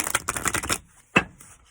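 Tarot cards riffle in a quick fluttering burst, followed by a pause and a single sharp tap as the deck is squared.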